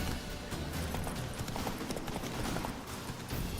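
Roach, the horse in Witcher 3, trots with steady, fairly loud clip-clopping hooves over constant game ambience, no talking.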